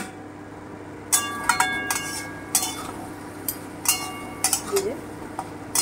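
A metal lid is lifted off a cooking pot of simmering mixed vegetables with carrot and potato in a home kitchen, giving a few sharp clinks and clatters against a low hiss, with someone talking throughout.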